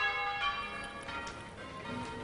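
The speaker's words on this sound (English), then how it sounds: "the ringing of bells has been used to call people to church" Church bells ring with a steady, sustained metallic resonance, overlapping tones lingering throughout at a moderate, fairly constant level with no voices.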